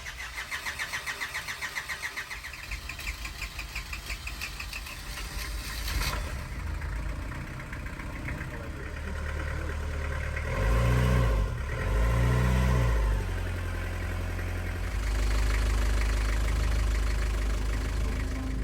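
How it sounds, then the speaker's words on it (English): A boat engine cranks with rapid rhythmic starter chugging, catches, then settles into a steady close idle with a couple of revs and a deeper rumble toward the end. "Let's see if the engine starts."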